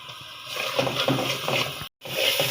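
Water is poured into a pot of chicken curry cooking with potatoes and ground spices, a steady rushing gush that cuts off abruptly with a brief silence before resuming.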